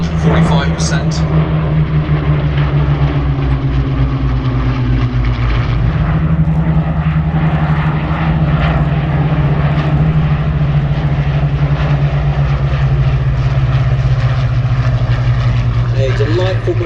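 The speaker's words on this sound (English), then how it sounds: "for Trevor Dugan and for Gabriel as they complete the Hurricane pair display." Two Hawker Hurricane propeller aircraft drone loudly and steadily overhead at an airshow, a deep sustained rumble with a slight pitch shift partway through, and an announcer's voice talks underneath.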